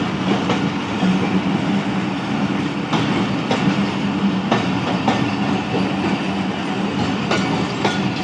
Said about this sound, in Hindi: ये थी 1 to 7 अप मेहर एक्सप्रेस।